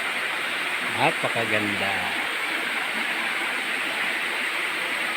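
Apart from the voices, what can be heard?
Hawa Falls waterfall on Marinduque Island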